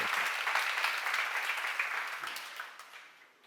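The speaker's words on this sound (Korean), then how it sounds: "박수를 하나 더 주세요." A church congregation at a seminar applauds together, a dense sustained clapping that carries steadily for a few seconds and then fades out toward the end.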